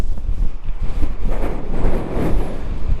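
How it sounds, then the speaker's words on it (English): Heavy wind buffets an outdoor microphone beside a 2003 Chevrolet Silverado 1500 LS pickup, a loud, continuous low rumble with gusty swells and no voices throughout. "this wind is just really out to get me today."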